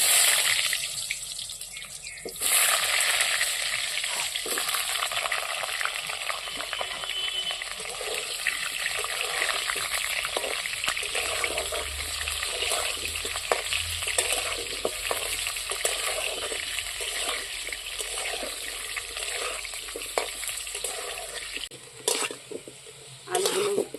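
Potatoes frying in hot oil in a wok make a continuous near sizzle with frequent stirring scrapes and clatter, fairly loud and with no talk, easing off toward the end.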